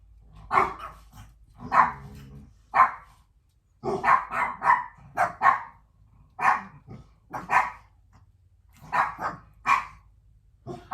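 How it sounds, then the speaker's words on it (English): A dog barks repeatedly in bursts of one to three sharp barks, loud and close, with short pauses between volleys and no talking over it. "It's a dog. I can tell by the way they're carrying on."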